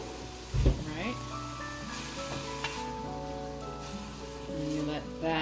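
Canned tomato sauce sizzles and sautés in a hot pan, a steady close crackle running the whole time with a brief clatter of stirring near the start.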